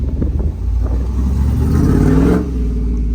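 Lowered pickup truck with a brand new transmission drives along, its engine note rising in a steady loud rumble before easing off, heard close with no talk.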